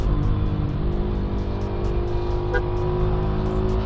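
A Yamaha Sniper 155 motorcycle fitted with a V-Lane aftermarket exhaust pipe runs on the Capas–Botolan road, giving a loud, steady engine drone close by with no talking.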